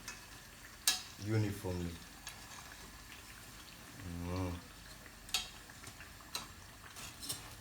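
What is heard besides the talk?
frying food being flipped in a pan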